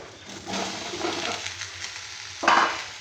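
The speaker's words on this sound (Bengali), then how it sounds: "যে আলুটা লাল লাল করে ভাজা হয়ে গেছে আমি এবারে ঝিঙেটা দিয়ে দেবো" Ridge gourd tipped into a pan of browned frying potatoes, a soft sizzle under light scraping that swells into a louder burst of hissing near the end, close and without speech.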